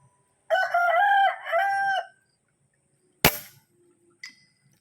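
A single sharp airgun shot cracks out during long-range shooting at 150 meters, a brief loud report after a rooster crows in the background, followed by faint rustling.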